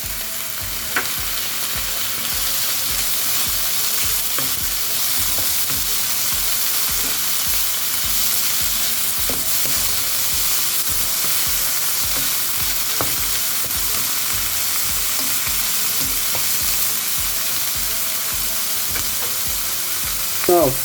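Cherry tomatoes frying in a pan while being stirred, a continuous loud sizzle with regular scraping stir strokes, no talking.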